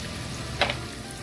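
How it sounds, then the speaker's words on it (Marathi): Chopped onion sautés in a pan for dal khichdi with a steady close sizzle and a brief stir-like crackle midway, alone without talk. "कांदा छान असा तांबूस रंग येईपर्यंत परतून घ्यायचा आहे"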